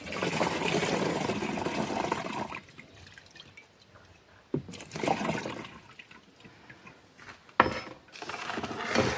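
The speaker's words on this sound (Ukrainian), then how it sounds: "Тепер додаю до оприскувача до 10 літрів води." Water pours into a garden sprayer tank being filled with up to 10 litres for orchard spraying, a steady gushing stream that stops, then a few close splashes and knocks follow.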